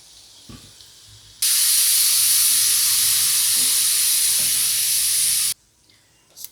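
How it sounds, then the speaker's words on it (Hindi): A pressure cooker of rajma vents its whistle in one loud, continuous burst of hissing steam lasting about four seconds, with quiet kitchen sounds before and after. "हमारी राजमा को भी एक विसिल आ गई है"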